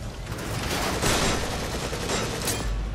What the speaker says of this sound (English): Oh, I just shot his friend in the back.